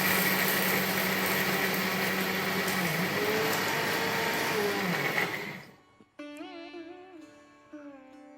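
A spice grinder whirs loudly and steadily, grinding a homemade masala of tamarind-rice spices with salt, asafoetida and turmeric, then winds down and stops, leaving a few faint tonal beeps and clicks.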